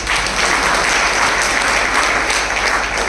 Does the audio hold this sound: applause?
yes